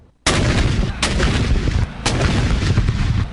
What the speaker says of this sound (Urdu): دن کا آغاز صوبہ دارالحکومت میں 21 توپوں کی سلامی سے ہوا۔